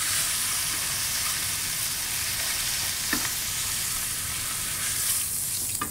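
A steak sears in a hot pan with a loud, even hiss and crackle of fat, plus an occasional tap or scrape of a utensil, and no speaking.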